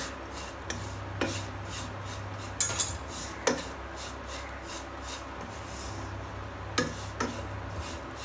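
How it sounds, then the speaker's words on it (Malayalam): A dry chicken vada mixture is stirred in a pan, giving soft continuous scraping and rubbing with a few sharper clinks of the utensil against the metal, quiet and close with no talk. "പാനിലിങ്ങനെ ഇളക്കുന്നേരം ഡ്രൈ ആയാലും ഒരു ചെറിയൊരു ശബ്ദം വരും"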